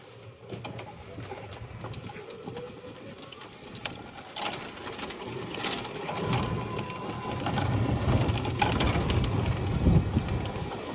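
An EZGO D503 golf cart with intermittent power has its electric motor running in forward. It gives a continuous mechanical whir and rattle with faint ticking that slowly grows louder over the clip, with no talk.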